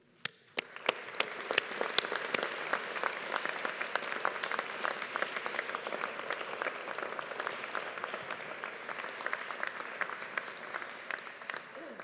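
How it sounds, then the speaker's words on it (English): A graduation audience applauds families and supporters at a Strathclyde Business School ceremony, broad sustained clapping from a large hall crowd that swells quickly and carries on steadily for the whole stretch. "let's just take a moment to acknowledge and applaud them for the support they've given you"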